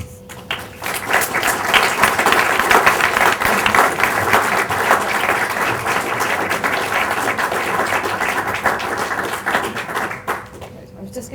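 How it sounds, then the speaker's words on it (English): An audience at a forest climate talk on Guyana and REDD applauds the speakers, dense sustained clapping filling the room for about ten seconds before thinning out. "give all the speakers a round of applause"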